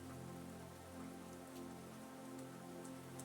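Soft, steady rainfall with a fine, even patter of drops under a low continuous hum, quiet and unbroken with no voices.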